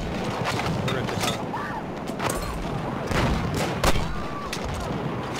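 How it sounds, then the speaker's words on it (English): Battlefield 1 match on the Suez conquest map, a dense battlefield of mortar fire, gunshots and distant booming explosions, sustained and moderately loud, with brief mechanical clanks mixed in and no talk. "just keep mortaring that building north of me"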